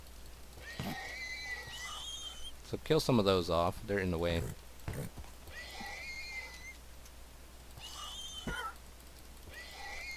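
Donkey and horse sounds in the Minecraft video game: a loud braying donkey call in the middle, with several higher whinnies and snorts scattered before and after, while someone talks over them.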